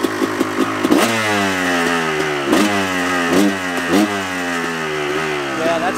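A Kawasaki KX250 two-stroke dirt bike running on jet fuel idles close by with a loud, raspy burble. Its pitch rises and falls through several throttle blips.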